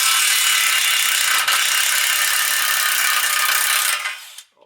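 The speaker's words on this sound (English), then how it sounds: "So now we're going to take out the torsion bolt on this side." An impact wrench spins out a torsion bolt on a full-sized truck, one loud, steady, high-pitched whir held for about four seconds before it cuts off.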